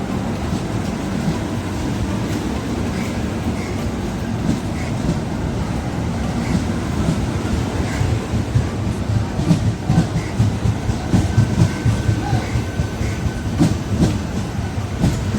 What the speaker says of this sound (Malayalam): train move